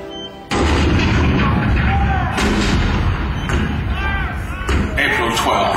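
Heavy cannon blasts erupt after a brief quiet, rolling continuously with repeated thuds and bursts, loud and close, with voices faintly mixed in.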